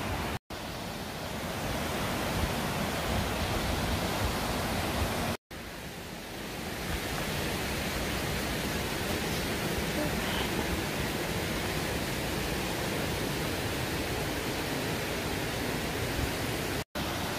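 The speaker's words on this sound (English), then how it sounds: "Here's a better shot of the waterfall" A waterfall along a cold trail roars in a constant broad rush, steady and loud with no voices, cut by a couple of brief gaps.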